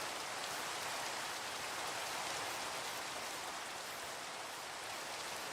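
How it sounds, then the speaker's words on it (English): Steady rain in the Minecraft video game, a uniform broadband hiss at constant moderate loudness throughout, heard alone without speech. "Rain, it's falling."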